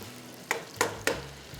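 A spoon stirs ginger masala in a hot frying pan, giving three or four short scraping strokes over a low, steady sizzle, close up with no voices.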